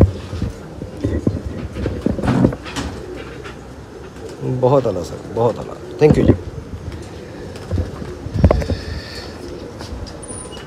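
Pigeons cooing in a loft among a fancier's birds, soft repeated coos heard under a man's conversation, with fluttering and handling noises nearby.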